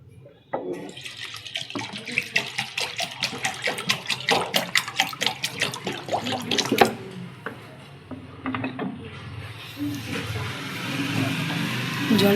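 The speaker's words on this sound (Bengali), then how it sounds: "জল দিয়ে দেবো।" Water is poured into a pot of washed lentils set to boil, a close splashing and gurgling stream that starts after a quiet moment, with knocks and clatters mixed in.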